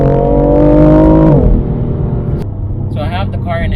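A BMW M4 Competition (F82) with a turbocharged inline-six revs hard and accelerates with a loud, rising engine note, which drops off sharply partway through before a voice speaks over the quieter car.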